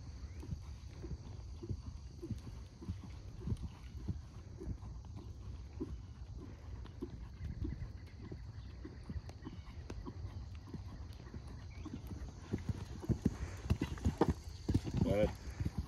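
Regular clip-clop of horse hooves at a walking pace during a riding lesson, quiet and steady throughout, with an instructor's voice heard faintly at times.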